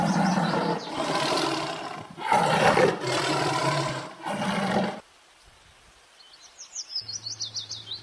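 Several loud, deep roars from a tiger in close succession, followed by a quieter stretch with high bird chirps.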